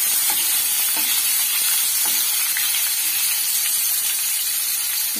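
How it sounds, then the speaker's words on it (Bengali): Onions sizzling in hot oil with whole garam masala, dried red chilli, bay leaf and cinnamon in a pan, a loud continuous hissing fry with occasional stirring scrapes. "পেঁয়াজগুলো দিয়ে দিলাম।"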